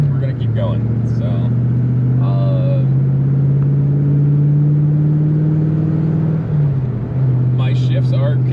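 A 1988 Ford LTD Crown Victoria with a 5-speed manual hums steadily from the cabin, its engine drone holding a low even pitch and dipping briefly at gear changes, while a voice talks intermittently over it.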